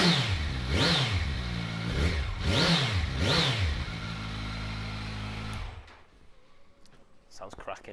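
A 2015 Kawasaki Z1000 ABS motorcycle with 5,981 miles revs hard close by, three rising and falling throttle blips over a steady idle. The engine then cuts off, leaving near silence and a few small clicks.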